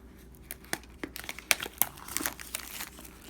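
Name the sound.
scoring and cutting open plastic packaging with a blade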